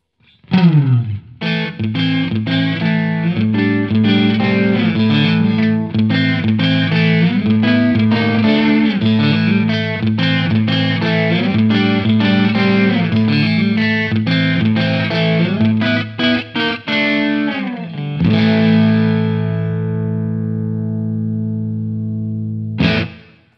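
Reamped electric guitar through a HeadRush Gigboard plays gritty, distorted riffs with chorus-like shimmer, rhythmic chugs and bursts, ending on a long ringing chord that fades out.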